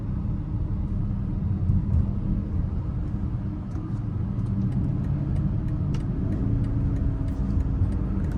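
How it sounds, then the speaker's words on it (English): A 2025 BMW X5 M60i xDrive pulling onto an interstate in sport mode, its engine a steady low rumble with road noise inside the cabin, fairly loud and constant throughout. "we're gonna put it in a sport mode and give it a pull getting on the interstate here momentarily"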